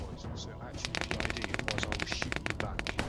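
Enemy gunfire in a shooter video game, rapid cracking bursts of shots in quick succession over the second half, fairly close and loud over a steady game ambience, with voices talking in the background.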